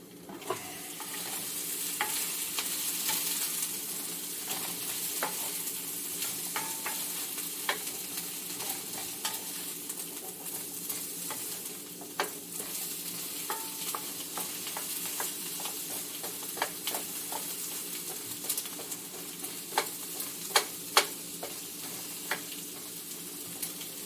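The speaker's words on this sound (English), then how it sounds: "some of these onions, they're starting to kind of fall apart now, so that's good" Onions fry in a pan for a beef stew, a steady close sizzle punctuated by scattered scraping clicks of a utensil stirring them, with no talking.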